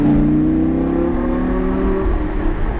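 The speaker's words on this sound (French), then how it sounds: "Et on accélère." A car accelerating progressively on the road: a smooth engine tone climbing steadily in pitch over a low rumble, close and loud, with no talking.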